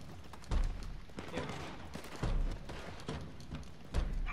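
Minigun fire in Red Dead Redemption 2, fairly quiet, with several dull bursts and thumps at irregular intervals over a busy background.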